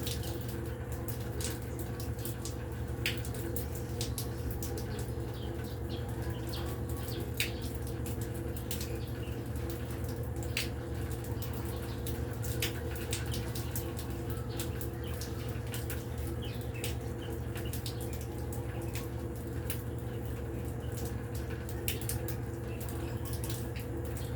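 Water overflowing from a tank behind a house, splashing and trickling steadily as birds bathe in it, with occasional faint chirps and clicks over the constant flow.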